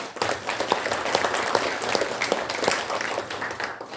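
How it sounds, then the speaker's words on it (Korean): An audience at a Korean ceremony claps for arriving organization members, a moderate crowd's applause with some distinct individual claps standing out, continuous for several seconds. "박수 부탁드립니다."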